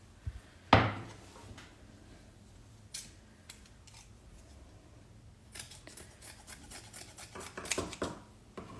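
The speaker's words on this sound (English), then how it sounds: "I'm just gonna cut a piece and just stick it behind." Scissors cutting a piece of craft material for a haunted house decoration, a sharp snip near the start followed by softer rustling and scattered clicks as the piece is handled.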